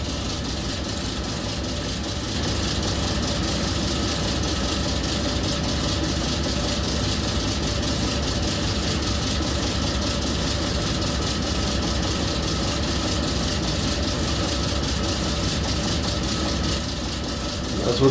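A 1,000 horsepower Cooper-Bessemer GMVXD gas compressor engine idles at 300 RPM, giving a heavy, steady low-frequency rumble with a faint rhythmic knock, loud and unbroken.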